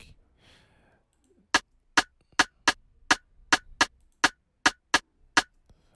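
Rim percussion hits from an afrobeats drum pattern, about twelve sharp, dry clicks in a steady syncopated rhythm, close and clear, heard alone after a brief faint lead-in.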